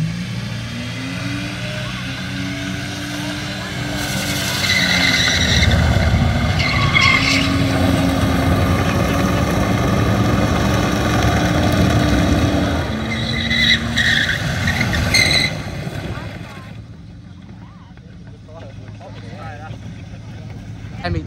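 A burnout car on a track, tyres pumped to about 30 psi, roars at high revs and skids with a loud sustained tyre squeal. The engine and squeal stay loud for most of the stretch, then drop away near the end.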